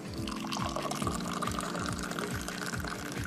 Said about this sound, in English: there is an art form as well to pour in Moroccan tea